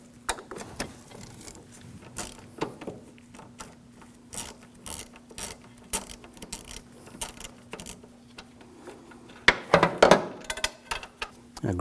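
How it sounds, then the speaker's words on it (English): Ratchet with an E14 socket working a bolt on a 2007-2013 BMW 328i 3.0L inline-six, scattered mechanical clicks and taps with a louder burst of rapid ratcheting near the end, no talk. "Now use a E14 socket. Take this bolt out."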